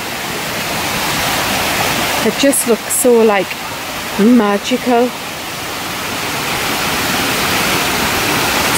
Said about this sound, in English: So this is the top of the waterfall.